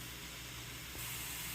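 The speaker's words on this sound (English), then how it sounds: "I start by stir frying the mushrooms." Mushrooms stir-fry in a pan, giving a steady hiss and sizzle that swells a little louder partway through, with a faint low hum beneath and no talking.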